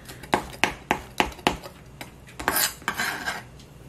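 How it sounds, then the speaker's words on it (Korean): A knife cuts beef for bulgogi into thin strips on a board, giving a run of sharp, evenly spaced chopping knocks up close, then faster, softer strokes toward the end, with no talking. "채를 썰어 두겠습니다."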